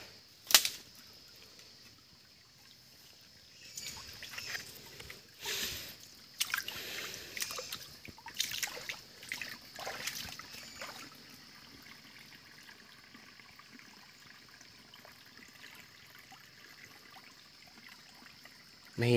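A weak forest stream flows after rain, a soft steady trickle and gush of water heard alone, with a few louder splashing bursts midway before settling back to a quiet flow.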